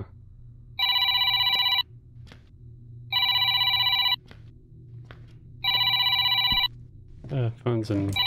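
A telephone rings in a horror video game, three loud electronic bursts spaced evenly over a low ambient hum, followed by a voice speaking at the end.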